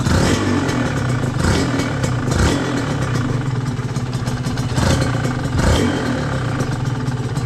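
A Honda NSR 150 SP motorcycle engine runs steadily up close with a rough, clattering mechanical rattle from the clutch under the rumble.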